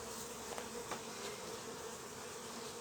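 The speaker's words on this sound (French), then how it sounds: "Puis là j'ai plein d'abeilles là-dessous" Honeybees buzzing around a hive feeder, a faint, continuous drone of many wings that rises slightly as individual bees pass close.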